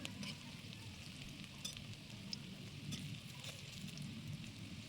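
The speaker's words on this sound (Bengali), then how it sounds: "এইভাবে সুন্দর করে বড়াগুলো ভেজে নিতে হবে।" Drumstick flower fritters in batter fry in oil with a faint, steady, crackling sizzle and occasional soft pops. No one speaks.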